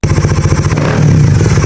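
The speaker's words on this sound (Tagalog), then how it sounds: "sa mga gustong makarinig ng soundcheck nito, so pakinggan natin kung gaano ba kaganda yung R77 dito sa Dominar" A Bajaj Dominar 400 fitted with a Yoshimura R77 muffler gives a short, loud, close rev, a throaty burbling exhaust that swells briefly before it cuts off.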